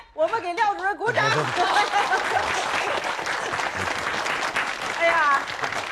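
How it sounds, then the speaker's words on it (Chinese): An office group breaks into loud, sustained applause with some chuckling and chatter mixed in, after a voice speaks briefly at the start. "来，我们给廖主任鼓掌"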